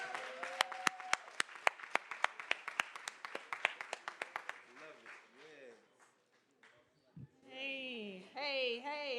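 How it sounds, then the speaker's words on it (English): Commencement audience gives the St. Louis mayor a big ovation: dense, rapid clapping near the start that thins out within a few seconds, then quieter crowd murmur, and a voice begins speaking near the end. "give a big round of applause"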